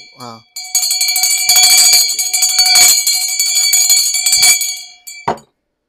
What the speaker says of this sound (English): So we take this one, ring the bell.